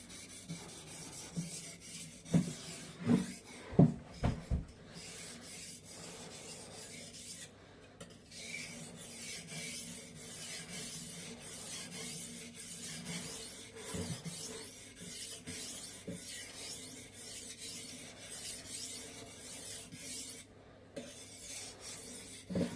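A kitchen knife being resharpened on a whetstone set on a board, giving steady dry rasping strokes, with a few louder scrapes early on and then a continuous even grinding throughout.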